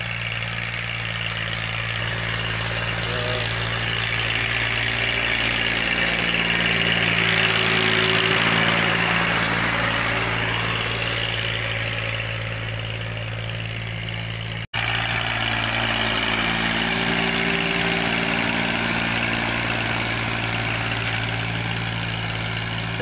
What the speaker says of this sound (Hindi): हमारे खेत में हल चल रहे हैं